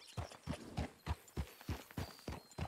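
Horse hooves in Red Dead Redemption clip-clop in an even walking rhythm, about ten close, distinct thuds with no voices over them.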